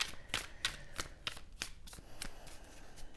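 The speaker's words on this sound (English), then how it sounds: "I'm going to give it one more shuffle." Tarot cards being shuffled by hand in a quiet room, a run of about ten crisp riffling bursts in a steady rhythm, close and clear with no talking.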